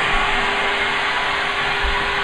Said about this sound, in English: a vacuum cleaner